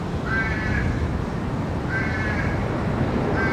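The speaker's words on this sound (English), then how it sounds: "the crow is not letting up. He's noisy today" A crow calls from out of sight, probably on a roof, three harsh caws at regular intervals over constant airport background noise.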